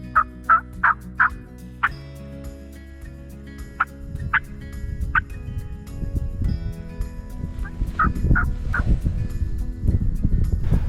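A wild turkey on public land gobbles repeatedly, several short clear rattling calls at a distance, then more calls later over rising rumbling vehicle or wind noise; no speech.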